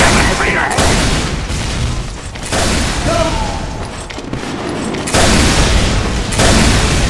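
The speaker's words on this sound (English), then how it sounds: "Please tell me that's not a liberty launcher right here" Loud, dense rocket explosions from a Liberty Launcher in Team Fortress 2, booming in a nearly continuous barrage with a brief lull midway, mixed with game noise and talk.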